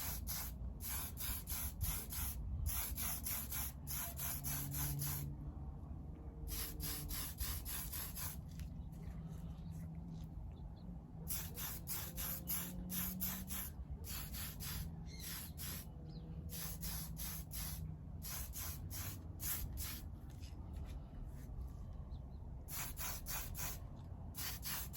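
Spray paint hisses in repeated bursts over parts of a Revell 1937 Ford Pickup model car, each short spray separated by brief pauses, close and fairly loud, with low background hum between.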